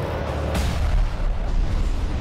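An aircraft is shot down in the video game ELEX, a loud booming blast followed by a heavy rumbling roar of explosions and fire throughout.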